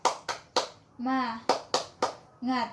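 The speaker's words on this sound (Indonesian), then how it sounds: "Ibu ada yel-yel tepuk semangat" Children in a classroom perform the tepuk semangat clap chant, with groups of three crisp, evenly spaced claps broken by short sung voices, the pattern repeating twice at close range.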